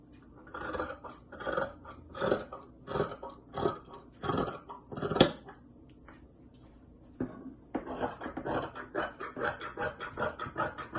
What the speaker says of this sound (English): And then I'll cut.